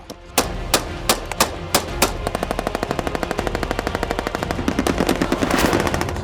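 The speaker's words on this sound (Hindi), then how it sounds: "जहां सिर्फ गोलियों का शोर था" Gunfire opens with a handful of separate, sharp shots, then breaks into a long, rapid, evenly spaced machine gun burst that rattles on loud and close.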